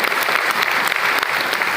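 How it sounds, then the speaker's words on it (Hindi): An audience at an RCM achievers' stage event in Chandauli claps steadily for Gehlot ji, a dense, continuous burst of applause sustained without a break and with no speech over it. "एक बार गहलोत जी के लिए ताली बजाएंगे"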